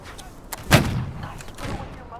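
Musket line firing in the video game Holdfast: Nations at War, with one sharp, loud volley cracking out near the start, followed by scattered, fainter shots and a later echoing report.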